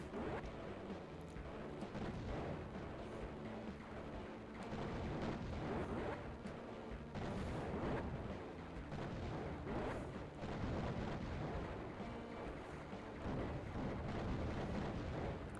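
Rapid heavy booming blasts of a plasma cannon keep firing without a break in the video game Raptor: Call of the Shadows, dense and loud, with no voices.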